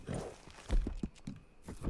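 Horse hooves in the video game Red Dead Redemption 2, a few soft irregular clip-clop thuds from a walking horse, faint and close, with a low game ambience.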